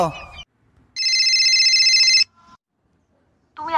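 A phone rings with a steady electronic trill lasting about a second and a half, loud and close, with speech just before it and resuming after a short pause.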